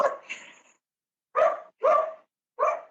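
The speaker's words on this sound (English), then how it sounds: "Now my dog's barking." A dog barks several times in short, loud bursts, with a quieter whimpering yelp at the start and silent gaps between the barks.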